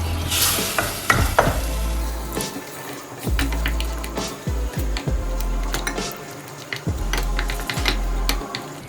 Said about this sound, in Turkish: Biraz da bu şekilde kavrulacak.